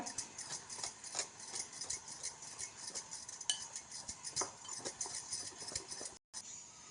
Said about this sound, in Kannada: ಈಗ ಇದನ್ನು ಚೆನ್ನಾಗಿ ಮಿಕ್ಸ್ ಮಾಡ್ಕೊಳ್ಳೋಣ